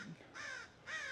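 Crows cawing outdoors, two harsh drawn-out caws at moderate distance, heard clearly with no talking.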